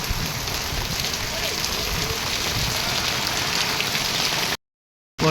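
Steady rain pours on a street in Sakinaka, Mumbai, a dense continuous patter of drops on hard surfaces, close and even throughout before cutting off near the end.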